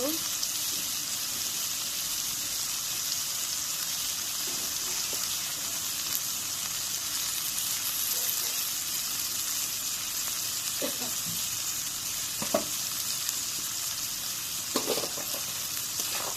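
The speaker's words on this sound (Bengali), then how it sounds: "পেঁয়াজ ভাজা হয়ে গেছে।" Onions frying in oil in a pan for a hilsa fish curry give a steady, dense sizzle that runs the whole time, with a few brief stirring clicks and scrapes near the end.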